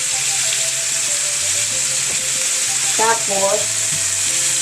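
Soy sauce poured into sizzling sautéed string beans in a home kitchen pan, a steady frying hiss throughout with a brief louder splash of sizzle midway and a voice talking faintly over it.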